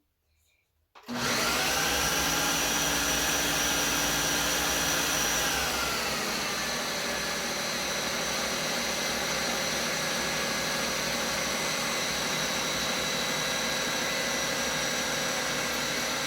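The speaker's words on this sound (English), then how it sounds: "now that we have the 2 pounds of ground beef in here, we're going to go ahead and just mix again. So let's go ahead and blend." A blender runs steadily at full power, mixing two pounds of ground beef into a smooth paste for carnivore bread or meatloaf, a loud continuous motor whir starting after a second of quiet, with a slight pitch shift partway through.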